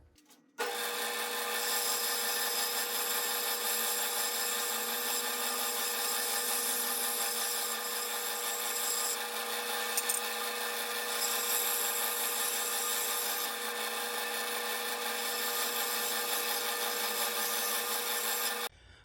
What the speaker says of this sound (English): I want to make a template with it that I can run my router around to make a good cut on the headstock.